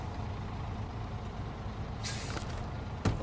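A truck in the SnowRunner video game idles with a steady low engine rumble, then releases two sharp hissing bursts of air brake, the second shorter, with no talking.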